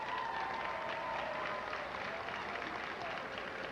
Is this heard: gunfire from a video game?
no